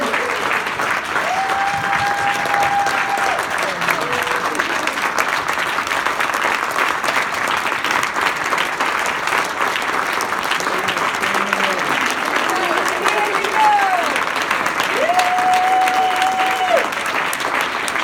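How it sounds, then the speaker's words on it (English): A large crowd claps continuously and evenly for nearly twenty seconds, with a few faint tonal sounds drifting in underneath. "Let's give them another round of applause."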